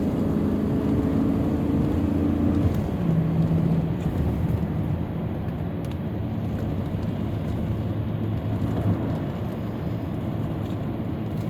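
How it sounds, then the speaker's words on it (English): A 1993 Lexus LS400 drives along, its engine and powertrain giving a steady, smooth low hum with road rumble that stays constant throughout, with no talking. "Powertrain is beautiful in this car."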